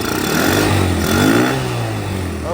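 A Bombardier DS90 ATV engine runs just after starting, a loud close buzzing putter with uneven throttle swells and pitch shifts as it is choked and feathered.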